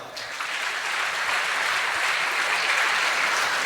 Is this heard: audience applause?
yes